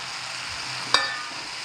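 Pieces of chicken sizzle steadily in a hot pan, with one sharp clink of a utensil against the pan as the pieces are stirred.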